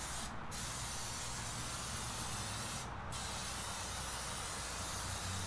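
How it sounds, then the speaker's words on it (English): Spray oil hisses from a can onto a new Lonestar Grillz offset smoker being seasoned, a loud continuous spray with two brief pauses, close to the microphone and with no talking. "I gotta say, this does make it a little bit easier with this spray oil like this."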